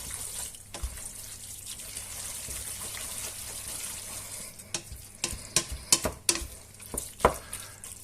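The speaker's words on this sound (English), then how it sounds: "we'll give this a good mix about before serving it up" Homemade spaghetti and meatballs are stirred in a pan: a soft, wet sizzle carries on underneath, then a spoon scrapes and clinks sharply against the pan in quick bursts toward the end, close by, with no talking.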